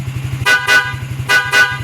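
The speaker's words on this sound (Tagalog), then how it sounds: "subukan natin yung PIA loud horn" Loud horn blasts from an aftermarket PIA loud horn on a Yamaha Sniper 155 motorcycle, in two pairs of short honks, close and harsh, over a rapid mechanical buzzing hum.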